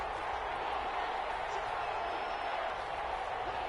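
Steady roar of a home stadium crowd in a football video game, a dense continuous wash of cheering, with a commentator's voice running over it.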